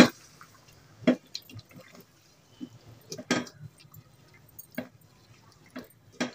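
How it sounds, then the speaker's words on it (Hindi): Spoon stirring fried onion ground with yogurt into an egg and potato curry in a pot, giving soft wet squelches and scattered clinks at an irregular pace, fairly close and quiet with no talk. "अब मैं ये प्याज इसमें ऐड कर दूंगी"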